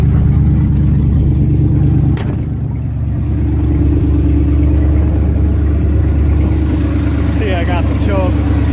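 A car engine fitted with a Quadrajet carburetor runs loud and close just after a cold start, holding a steady idle, with a brief sharp click and a voice faintly heard near the end.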